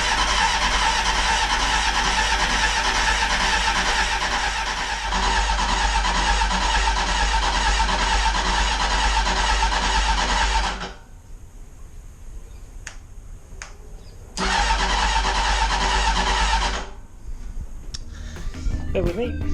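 A barn-find Honda CBR900RR Fireblade SC28 motorcycle cranks on its first start attempt, with long loud bursts of starter and engine noise broken by quiet gaps and clicks.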